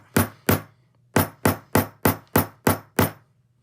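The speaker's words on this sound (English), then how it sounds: "I have a hammer here, just a normal hammer, and I'm gonna hammer that into place." An ordinary hammer strikes a snap fastener to set it, eight sharp, loud metallic whacks, two spaced, then six in a steady even rhythm, with no talking.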